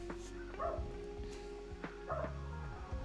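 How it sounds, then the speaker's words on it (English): An indoor dog gives a few short yips and whimpering barks scattered through a quiet room, fairly faint and close, with no talking. "I'm sorry for people who have headphones and don't expect a random bark of a dog"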